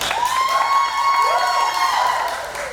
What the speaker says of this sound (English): thank you for all the applause, guys.